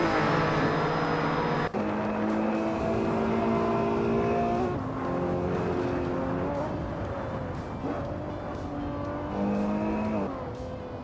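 Race cars, including a 1997 McLaren F1 GT, roar through a racing video game with steady engine drones, shifting revs and occasional tire squeals, loud and continuous throughout.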